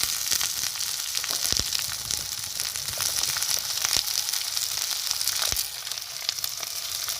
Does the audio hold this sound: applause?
no